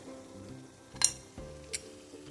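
Stuffed eggplant masala stirred in a frying pan, a few soft scrapes and light clinks of a spoon against the pan over a quiet low hum, close and gentle.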